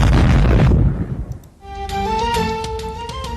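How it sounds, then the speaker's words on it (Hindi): An explosion near a religious gathering in Gulistan-e-Johar, Karachi, in news footage opens with a loud, heavy rumbling blast that fades out, followed by tonal news music. "गुलिस्तान जौहर कराची में एमकेएम पाकिस्तान की महफिल मिलाद के करीब धमाका।"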